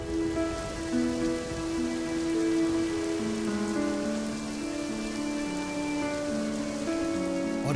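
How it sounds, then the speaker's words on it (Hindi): Heavy rain pours in a steady, dense hiss beneath a melodic music track that plays the whole time. "एक दिन बड़ी तेज बारिश हुई।"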